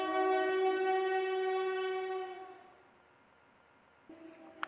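A train horn sounds as a sound effect in a Bengali ghost story about a Shantipur local train, a long loud multi-tone blast that fades over about three seconds, followed by a short quieter horn near the end.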